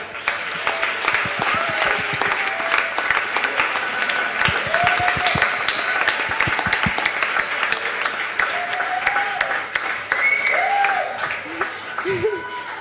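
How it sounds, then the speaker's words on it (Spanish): An audience at a circus festival in Sala Nasa applauds a performer named Pepe with a long, steady wash of clapping. Scattered voices and whoops rise over it. "Un aplauso para Pepe"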